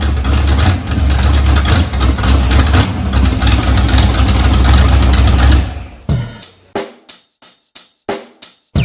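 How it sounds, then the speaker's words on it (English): A Harley street rod motorcycle fitted with a Corvette V8 engine of over 400 horsepower rumbles loudly and steadily at idle up close, then cuts to a series of sharp, separate revs that die away between each blip. "It's got the same V8 engine from a Corvette producing over 400 horsepower on a motorcycle"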